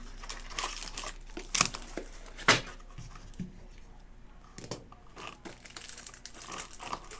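Hockey card boxes and wrapped packs being opened, with close crinkling and crumpling of plastic wrap, sharp tearing and cutting, and a few knocks of cardboard.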